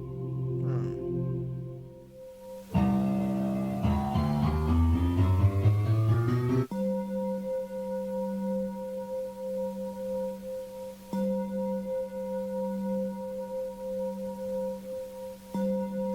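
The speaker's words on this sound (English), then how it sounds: "replaced by the creepy ambience of ringing bells, sharp piano hits, and eerie voice clips" Eerie video game ambience from Kanye Quest: low sustained tones and ringing bell-like partials, with a burst of rising piano-like notes early on, all fairly quiet.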